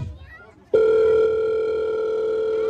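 An iPhone call connecting on a busy Tehran street at night, a brief murmur of voices and then a loud, steady ringing tone that holds unbroken once it starts.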